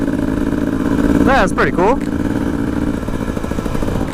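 A modern two-stroke dual sport motorcycle running on a street, its engine droning steadily and close throughout, with a brief rising-and-falling whine of revs midway; someone speaks over it.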